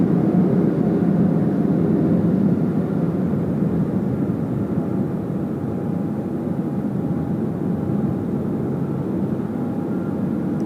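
A Cathay Pacific Boeing 777 on its takeoff roll at Sydney Airport on a windy night, a loud, sustained, steady jet engine roar with a broad rumbling hum, heard from a distance with no talking.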